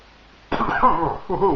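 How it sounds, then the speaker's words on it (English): A single sharp cough close to the mic, followed by a second, throatier cough after a brief pause. "Cough, cough, cough."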